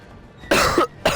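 Two harsh, close coughs, the first longer and the second short, over a low background of game sound.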